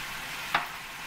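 Spiced chicken gizzards with mustard, onion rings and fish sauce get stirred in a frying pan: a low steady sizzle runs throughout, broken once by a single short scrape of the stir.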